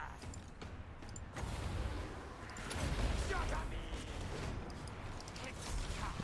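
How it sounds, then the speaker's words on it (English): A poisoned wind mortar fires in a video game, a sustained rumbling barrage of booming impacts and mechanical clatter that swells in the middle, heard moderately loud with someone talking over it. "Poisoned wind mortar."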